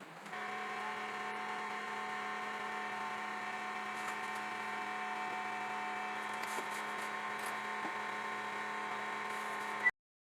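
Niansheng NS-Y20 808nm diode laser hair removal machine running after being switched on: a steady electrical hum with a constant cooling-fan drone, holding even for about ten seconds before cutting off abruptly.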